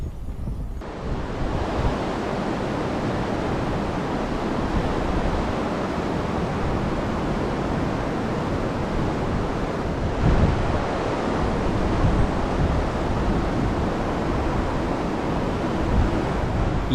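The Sutlej and Spiti rivers meeting at Khab Sangam, a loud, dense, constant roar of rushing water mixed with wind buffeting the microphone, unbroken for the full length.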